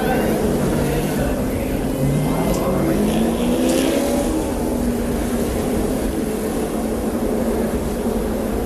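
NASCAR race cars roar past on track in a loud continuous engine drone, pitch sliding as the pack passes, with crowd and track noise throughout.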